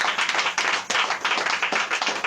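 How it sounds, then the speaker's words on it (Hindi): A congregation at a Hindi-language church sermon breaks into dense, continuous clapping, many hands striking together loudly and close by for a couple of seconds without speech. "ताली बजा सकते?"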